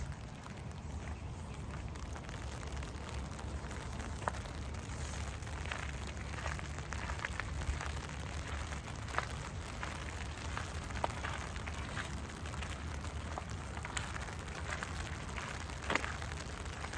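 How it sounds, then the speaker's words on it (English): Raindrops fall steadily on a walk outdoors, making a continuous soft patter with occasional sharper individual drips throughout. "I am so tuning into this raindrop sound."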